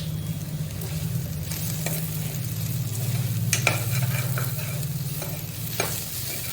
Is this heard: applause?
no